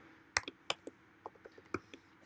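Keystrokes on a computer keyboard entering a SQL query, a sparse, uneven run of crisp, close clicks with short gaps between them.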